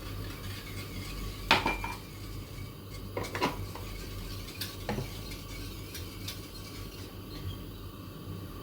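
Sugar stirred in a pot while making a banana roll cake, quiet low hum with a few distinct metallic clinks and scrapes of a utensil against the pot spaced a second or two apart.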